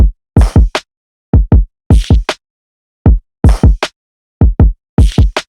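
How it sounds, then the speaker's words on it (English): A basic programmed drum pattern built from the Blueprint Volume 3 drum kit plays loud and dry, punchy kick-like hits with snappy accents in short clustered groups separated by clean silences, no voice over it. "Listen to this drum pattern. Basic."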